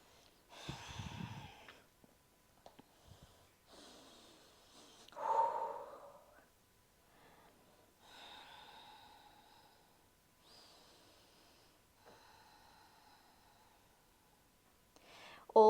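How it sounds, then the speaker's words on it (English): Slow breathing during a yoga pose in a stress-release session, with several soft, close inhales and exhales spread through a quiet stretch, one louder snort-like breath near the middle and a sharper breath at the end. "5 more breaths."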